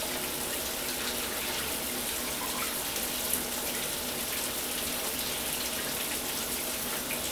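Shower water runs in a steady, loud, broadband hiss that continues without a break.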